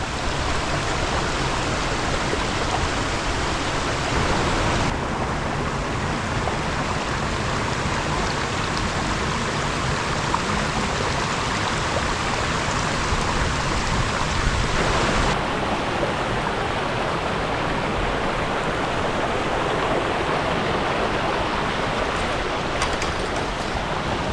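Rushing water roars steadily and loudly for the whole stretch, a dense continuous wash of a forest waterfall pouring into a stream in the Phu Phan hills, with no voices.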